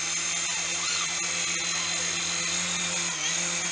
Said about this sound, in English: that's the Syma S40 little helicopter right there